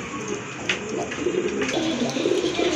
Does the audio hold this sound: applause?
no